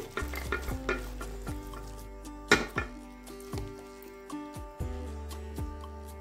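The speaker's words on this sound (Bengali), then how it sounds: "এবার মটরটাকেও আমি ঢেলে দিচ্ছি" Boiled peas and their cooking water are tipped into a pan of hot goat fat, setting off loud sizzling and crackling, with repeated scraping clatter of a utensil against the pan and no voices.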